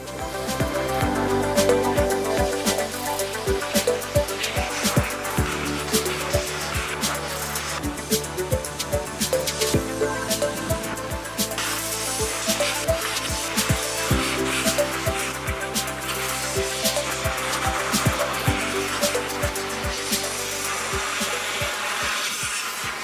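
A compressed-air tool blows a steady, loud, continuous rush of air over hazy oxidized car headlights being restored, with faint rubbing and tapping under it throughout.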